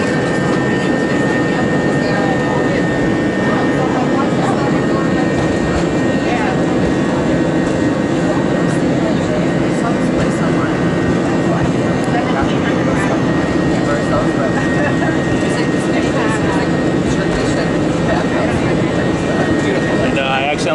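A JetBlue Airbus A320 powers up for takeoff on the runway, its jet engines roaring steadily and loudly from inside the cabin for the whole stretch, a droning rumble with a high whine running through it.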